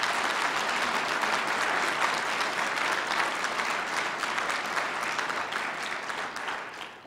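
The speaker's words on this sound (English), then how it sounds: "Let's give COGS a round of applause." A large audience at Duluth's 2012 State of the City address claps steadily and densely for about seven seconds, fading slightly at the end, with no talking.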